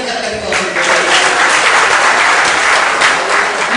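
Loud, sustained applause from an audience, dense clapping that fills the whole moment with no voices standing out.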